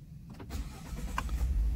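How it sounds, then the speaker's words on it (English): A Ford F150 pickup truck is started, with a brief whir and click followed by the engine catching into a low, steady rumble, close and alone with no talk. "option two is turning the truck on with your foot on the brake."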